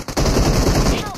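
Dense automatic gunfire from a BGMI battle-royale match, a sustained rapid burst filling the moment, loud and close, with faint game sounds alongside.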